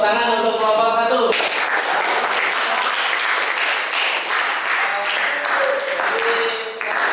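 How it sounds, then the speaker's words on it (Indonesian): A classroom audience applauds group 1 after their physics presentation, with loud, sustained clapping from many hands filling nearly the whole stretch after a brief tonal sound at the start. "Tepuk tangan untuk kelompok 1."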